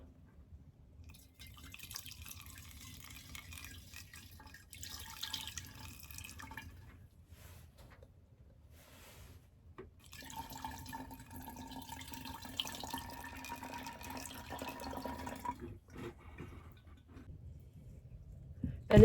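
Crushed-bug pink dye liquid drips and trickles through a funnel in steady uneven patter, with two longer bursts of pouring separated by a quieter pause, close and moderately soft.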